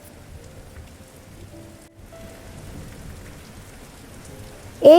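Heavy rain falls on a dark night in a village near a forest, a fairly faint steady patter with low rumbles and soft background tones, ending in a sudden loud swoosh.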